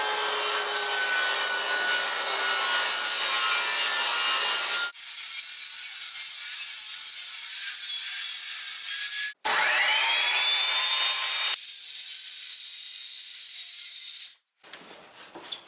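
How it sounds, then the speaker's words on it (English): A saw rips a 4x8 sheet of plywood in half in bright, high-pitched whining bursts with brief pauses between passes, then the blade winds down near the end. "So we need to rip this 4x8 sheet of plywood in half."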